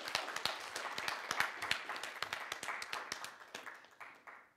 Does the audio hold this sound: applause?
yes